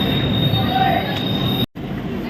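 The Howrah–Bangalore Duronto Express pulls into Renigunta station with a loud, steady rumble of wheels on rails and a faint squeal, broken by a brief abrupt cutout near the end.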